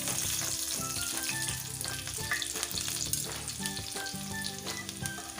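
Garlic cloves sizzle and crackle steadily in oil in a pan, close up and continuous, with light clinks of stirring.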